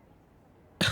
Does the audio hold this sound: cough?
yes